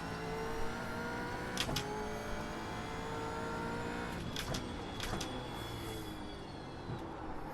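A Gen 3 Camaro race car lapping Mount Panorama at Bathurst in iRacing, its engine droning steadily at high revs with a few short sharp clicks and shift blips over the constant hum.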